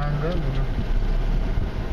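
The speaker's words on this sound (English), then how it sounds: "All the motorcycles running the red light." Motorcycles and other traffic idle and rumble around a taxi at a red light in Bangkok, a steady low engine drone with a passing motor whine, close and continuous under a voice talking.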